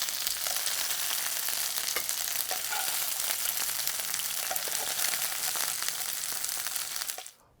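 Chicken sears in a hot pan for jambalaya, a steady, close, loud sizzle and crackle of frying that runs unbroken with small pops and stirring noises, then cuts off abruptly near the end.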